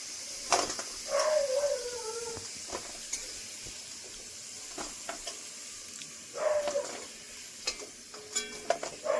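Potatoes frying in oil in a home kitchen pan give a steady, fairly quiet hiss, broken by a few scraping stirs and clinks of a utensil. No one speaks.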